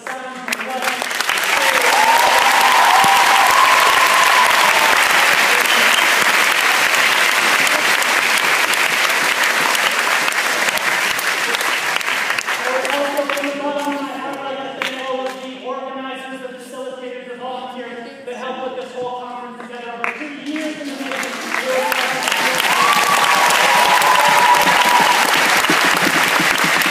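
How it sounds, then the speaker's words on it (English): A large audience gives loud, sustained applause for the volunteers who set up sound and lighting at a show, fading into a quieter stretch with some talk and music-like tones, then swelling again into full clapping. "we have just a nice big round of applause to all of the volunteers that helped set up the sound and lighting"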